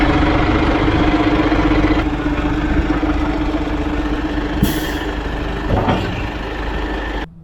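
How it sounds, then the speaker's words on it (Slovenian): A Claas Arion 450 tractor powered by a Fiat Powertrain engine runs at a steady, loud idle close by, a dense rumbling drone with a brief brighter click partway through before it cuts off at the end. "Tegale klasa pogana Fiatov motor, Fiat Powertrain."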